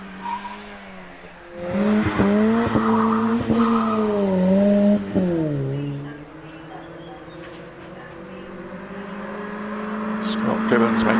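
A Mazda MX-5 race car climbs the Prescott hillclimb course through the S bends, its engine revving and shifting pitch as it accelerates, loud and close, then fading somewhat before building again.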